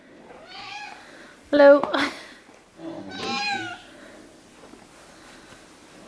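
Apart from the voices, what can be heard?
cat meowing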